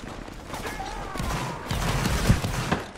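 Musket volley fire from Napoleonic Wars infantry in a line battle, a steady crackle of overlapping shots near and far with a heavier burst late on, under faint background voices.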